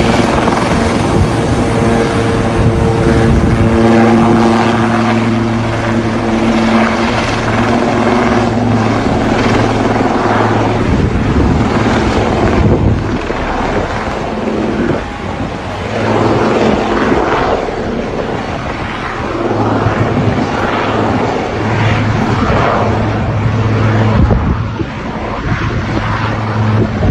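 A helicopter descending over Juvenat, Pétionville, its rotor and engine drone loud and continuous throughout with steady low tonal bands and no talk.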